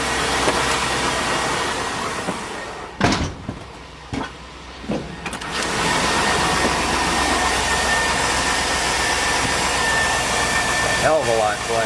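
A 2002 Chevy Avalanche 1500 with its 5.3L V8 idles steadily and fairly loud after a new alternator has been fitted, a broadband running hum that dips briefly a few times, with a voice talking quietly over it.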